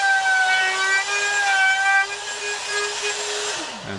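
A Ridgid oscillating spindle sander works the sides of a guitar body, giving a steady whining hum with a clear tonal pitch that dips, then drops away as the motor spins down at the end.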